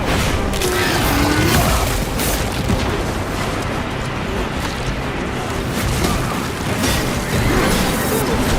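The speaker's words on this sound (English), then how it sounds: "Frag grenade out!" A loud, sustained rumbling blast from a frag grenade in the game Space Marine 2, low and dense, washing over the whole stretch with crackling debris and no clear pause.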